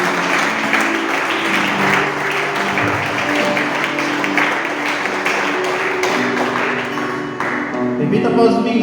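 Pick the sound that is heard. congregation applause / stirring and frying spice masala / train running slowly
congregation applause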